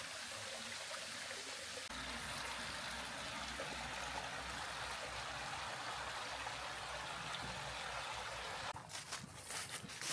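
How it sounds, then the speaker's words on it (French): The Blénière stream, which feeds the Vouivre waterfall near Saint-Claude, runs with a continuous soft rush and trickle of water. A brief rustle of movement comes near the end. "c'est le ruisseau de la Blénière"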